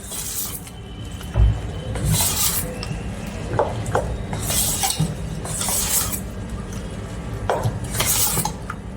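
Salt is stirred into Kathiyawadi-style dhokla batter in a bowl, a series of close scraping, swishing strokes recurring every couple of seconds with soft clinks of the spoon against the bowl.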